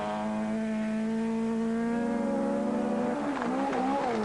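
A rally car at the 1980 Welsh Rallysprint climbs a hill stage, its engine drone holding steady and then rising and wavering as it accelerates, faint and somewhat distant throughout.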